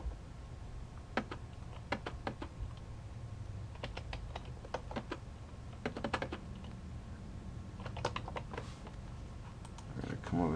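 Keystrokes on a computer keyboard in irregular bursts as a router CLI command is entered, close and clear over a steady low hum, with brief pauses between runs of clicks.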